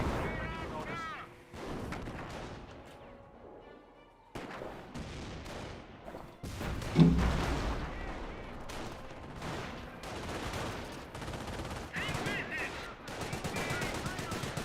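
Repeated booming mortar barrages from a half-track in Company of Heroes, dense thuds and blasts mixed with battle noise and gunfire, continuous across the stretch and loud throughout.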